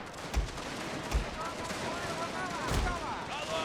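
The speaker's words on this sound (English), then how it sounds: "And have them fire upon the enemy." Troops fire guns in a Total War battle, with a few sharp, separate shots cracking over a steady background of distant battle noise.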